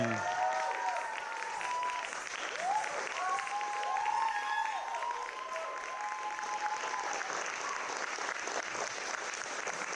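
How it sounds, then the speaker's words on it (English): Audience applause at an International Dance Day festival performance for a dance company, a steady dense clapping wash for the full length with a few cheers and voices rising above it. "Give a round of applause for Shruti Laya Dance Company."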